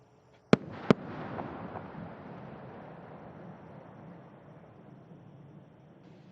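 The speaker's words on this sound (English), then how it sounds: "the space shuttle announces its arrival at the launch site with its signature sound of twin sonic booms" Space shuttle Atlantis arriving at the Kennedy Space Center launch site delivers its twin sonic booms, two sharp cracks in quick succession followed by a long, fading rumble that rolls away into quiet.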